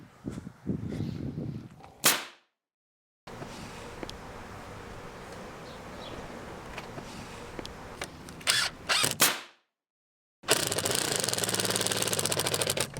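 A power drill drives screws into saveBOARD interior lining board in several close, loud whining bursts, with revving in and out and two silent breaks between runs.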